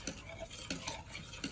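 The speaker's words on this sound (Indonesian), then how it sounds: "Terus dikocokin, aduk." Pancake batter being stirred in a bowl with a utensil, a few faint scraping, clinking strokes in quick succession.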